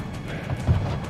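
A horse gallops in Assassin's Creed Brotherhood, its hooves thudding in a short, loud burst of clip-clop over a continuous game soundscape.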